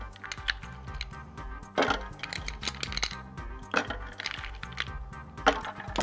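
Three or four ice cubes clatter into a metal cocktail shaker holding fruit juice, close hard clinks and knocks in separate bursts, with lighter rattling between them.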